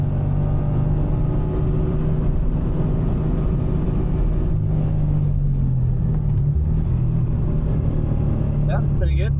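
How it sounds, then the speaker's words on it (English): A Subaru BRZ track car accelerating on a Formula 1 circuit, its engine a steady loud drone from inside the cabin with a rising tone near the end. "On the throttle."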